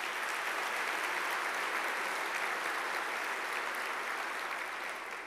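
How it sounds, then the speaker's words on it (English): An audience applauds the mayor at an Eggs & Issues event, a steady wash of clapping from a crowd that holds for several seconds with no speech over it. "Give him a big round of applause."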